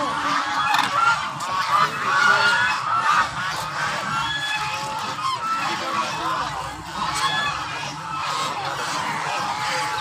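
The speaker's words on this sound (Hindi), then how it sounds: "ये देख सकते हो फुल बतखों का रश लगा हुआ है" Ducks crowding a pond on a college campus in Karachi, a busy flock honking and quacking steadily at close range, with voices murmuring faintly underneath.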